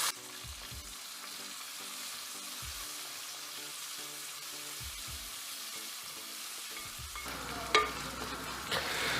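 Crushed shallots frying in a pan for idiyirachi, a steady close sizzle with periodic stirring strokes and a brief clatter near the end, no one speaking.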